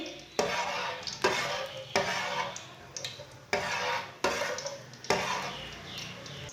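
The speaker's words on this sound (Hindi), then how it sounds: "एक कप ऑयल, एक चमची साबुत जीरा। जीरे को 1 मिनट तक भून लेंगे।" Whole cumin seeds roasting in a cup of oil for village-style aloo palak, with a faint sizzle under sharp, repeated scraping strokes of a spoon in the pan about once a second.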